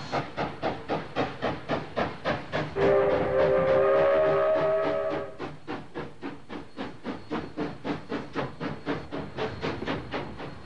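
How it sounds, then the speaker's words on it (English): A locomotive shunting on a mountain zigzag railway chuffs with a steady rhythmic exhaust beat, and a loud hiss of steam rises over it midway before the chuffing carries on alone. "passengers become spectators, while the loco repositions for the trip back up the mountain"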